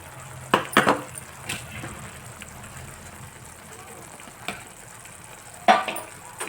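Ginger, garlic and coconut paste roasting with curry leaves and coriander in hot oil in a village-style kitchen, giving a faint steady sizzle broken by a few sharp clinks of a spoon against the pan.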